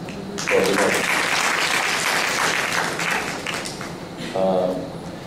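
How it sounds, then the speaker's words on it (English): Audience applause for a panelist at a tech event, a burst of crowd clapping with a voice talking over parts of it. "A round of applause."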